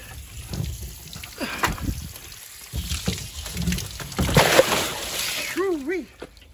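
Muddy water and sediment gush out of a first flush device on a rain-fed aquaponics system, a close splashing and sloshing rush with irregular surges, while a person talks over it.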